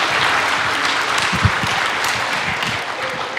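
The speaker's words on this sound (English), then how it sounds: "So you guys give Elena another round of applause." A concert audience gives a student performer named Elena another round of applause, loud, close crowd clapping that stays full and even throughout, with a slightly sharper clap standing out partway through.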